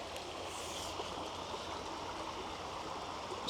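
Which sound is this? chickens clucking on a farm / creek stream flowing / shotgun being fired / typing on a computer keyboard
creek stream flowing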